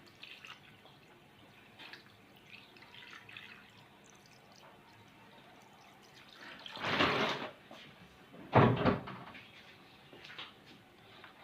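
Water is poured into a bowl of cow trotters for washing in two short, close splashing bursts, separated by quieter stretches with faint handling noises.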